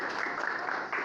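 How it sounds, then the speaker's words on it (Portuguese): Audience clapping for a guest at a São Sebastião festival gathering, a dense, even wash of applause from many hands, steady and fairly close for about a second. "Palmas para a nossa convidada."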